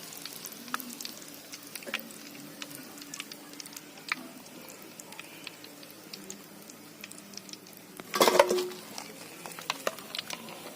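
Samosas deep-frying in hot oil give a soft, steady sizzle with faint crackles throughout, then a brief louder bubbling burst near the end as they are moved or lifted from the oil.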